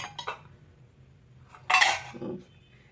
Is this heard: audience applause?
no